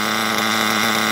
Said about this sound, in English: Seems to be idling good.